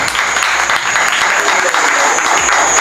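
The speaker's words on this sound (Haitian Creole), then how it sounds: "Je vais demander pour nous battre un gros applaudissement pour lui" A big round of applause from an audience at a school gathering: dense, steady clapping from many hands, loud and continuous throughout with no voices standing out.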